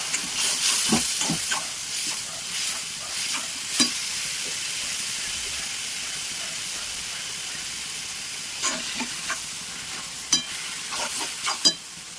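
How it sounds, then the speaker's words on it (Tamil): Tomatoes cook in a hot pan for mutton biryani, giving a steady sizzle and hiss with occasional spoon scrapes and taps against the pan, close and alone. "இப்போ தக்காளி பழத்தை சேர்த்துக்கோம். வேகட்டும்."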